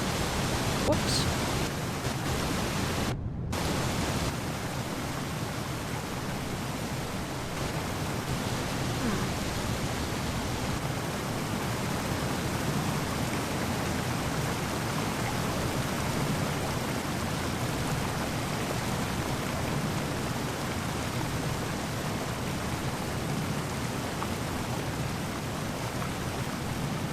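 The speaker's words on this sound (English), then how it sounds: "Oh, they made the waterfall so loud." A loud waterfall in the video game The Isle roars as a constant broadband rush filling the whole stretch, with a voice briefly heard over it near the start.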